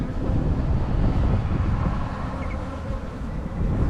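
Honey bees hum at a hive as it is requeened, a dense, continuous close buzz with a low rumble of wind noise on the microphone and no talk.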